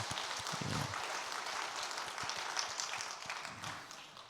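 A church congregation applauding during a Sunday morning worship service, a soft, steady patter of many hands heard from a distance, fairly faint with a couple of low thumps underneath.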